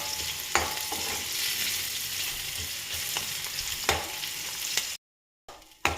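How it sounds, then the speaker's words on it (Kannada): Sliced onion fries in oil in a pan, a dense steady sizzle with occasional stirring scrapes and clicks, close and continuous, then a brief gap of silence before the sizzle resumes. "ಫಸ್ಟು ಬಾಣಲಿ ಇಟ್ಟು ಆಯಿಲ್ ಹಾಕಿ ಆನಿಯನ್ ಹಾಕಿ ಫ್ರೈ ಮಾಡ್ತಾ ಇದ್ದೀನಿ"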